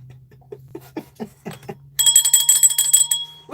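A pink bicycle-style bell: a few soft taps first, then a bright metallic ringing trill lasting over a second, loud and close with a low hum underneath.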